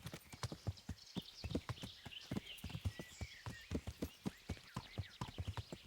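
Horse hooves clop in a steady riding rhythm in a video game, loud, close and continuous, with a faint snort or whinny in the background and no talk.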